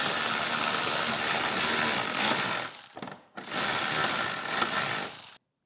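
A ratchet turns a Torx 25 bit on a motorcycle fairing: close, steady rapid clicking that stops briefly partway through, resumes, then cuts off abruptly.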